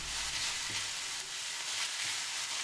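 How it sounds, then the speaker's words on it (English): Minced meat being stir-fried and crushed in a wok for the Sichuan dish ants climbing a tree, a steady close sizzle with occasional scraping stirs running throughout, no voices. "We have to crush our minced meat into even smaller pieces and keep on frying it."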